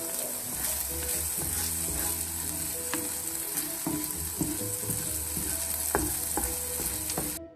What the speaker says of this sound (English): I've taken a pan, added a little bit of sesame oil to this. I'm going to place the cottage cheese on top